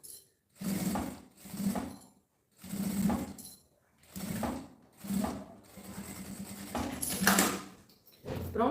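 A sewing machine stitches bias binding onto a round fabric pouch in short bursts of rapid whirring, about seven runs separated by brief pauses, close and clear.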